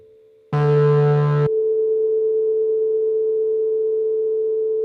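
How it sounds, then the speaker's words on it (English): A short, loud, dense burst of tone gives way to a steady sustained electronic drone that hangs unchanging at a constant level. "Let's freeze the reverb."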